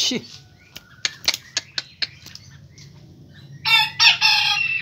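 A Pelung rooster crows loudly and close by near the end, after a run of short clucks and chirps over low background rumble.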